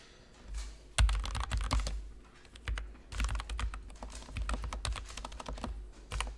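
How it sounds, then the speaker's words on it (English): Fast, uneven clacking of computer keyboard keys, close and fairly quiet, in bursts with brief pauses and a few heavier thumps. "If I can type, learning how to type would be good."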